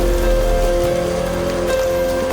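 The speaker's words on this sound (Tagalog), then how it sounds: "Lakas pa rin yung ulan natin." Heavy rain pours steadily onto a surface close by, a dense continuous hiss with scattered drops standing out and no voices over it.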